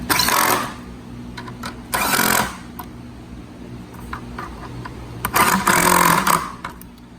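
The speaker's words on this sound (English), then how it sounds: "All right, now let's tighten it down." Bolts on the turbo downpipe of a 2015 Fiat 500 Abarth are run down by a power tool: three loud whirring bursts, each a second or less, under a steady low hum.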